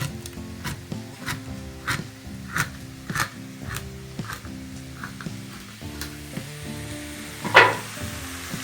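Onion sautéing in a frying pan, a soft continuous sizzle broken by regular scraping and stirring strokes of a utensil against the pan, close and fairly quiet.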